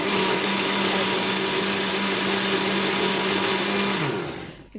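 An electric mixer grinding spice paste for mango pulissery, a loud steady motor whine held for several seconds before winding down and stopping at the end.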